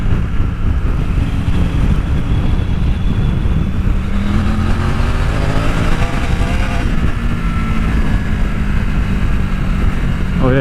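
Adventure motorcycle cruising at about 100 kilometers an hour, a steady loud engine drone blended with heavy wind buffeting, the pitch shifting slightly as the rider accelerates.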